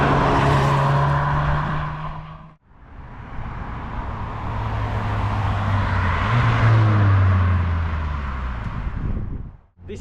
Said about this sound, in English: let's hear the sound of this car.